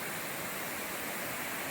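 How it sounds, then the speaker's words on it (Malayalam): Aruvikuzhy waterfall in Kottayam in monsoon flood, a steady dense roar of heavy falling water filling the scene, constant and close with no voices. "അതിമനോഹരമായ വെള്ളച്ചാട്ടം കാണുക കാണുക"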